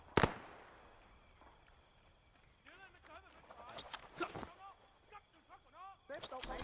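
A sharp, loud grenade blast erupts at the start in a World War-era shooter game, its roar decaying over a couple of seconds, followed by scattered distant gunfire cracks and shuffling while voices talk.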